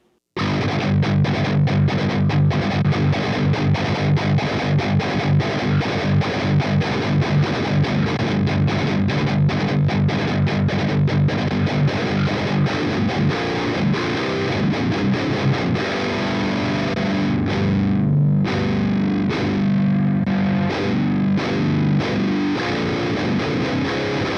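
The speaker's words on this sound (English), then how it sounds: "So let's check out a little bit more of the chugging factor." Heavy distorted electric guitar through an Ibanez Tube Screamer overdrive pedal, chugging steadily with palm-muted low riffs, loud and continuous with a thick overdriven tone throughout.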